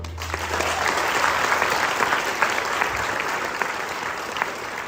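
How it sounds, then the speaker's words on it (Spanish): Church congregation at a Christian conference applauding, a dense, even wash of many hands clapping that carries on steadily for several seconds, close and lively, with a brief low rumble near the start. "Les aplauso al Señor."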